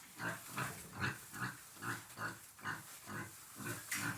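Pigs in a barn pen grunt in a steady, repeated rhythm, about ten short snorting grunts at close range with no talking.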